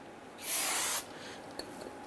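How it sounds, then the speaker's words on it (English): A short burst of aerosol solvent sprayed onto a 2002-2008 Dodge Ram 1500 rear axle shaft, a steady loud hiss lasting about half a second, then quiet shop background with a faint click. "I want to go ahead and use some spray solvent."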